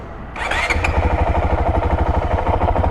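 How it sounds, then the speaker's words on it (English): A 2023 Honda CRF450X dirt bike with a thermostat delete kit fires up after a short crank and settles straight into a loud, close, steady rhythmic idle that runs on alone. "this bike starts so easy"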